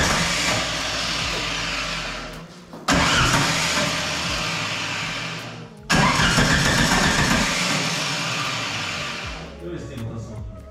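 Three long cranking bursts from the starter motor of a VW Gol with a turbo engine built in a garage, the engine whirring and turning over without catching, separated by brief pauses, close and loud.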